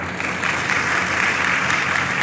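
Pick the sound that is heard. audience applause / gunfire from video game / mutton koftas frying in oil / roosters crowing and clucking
audience applause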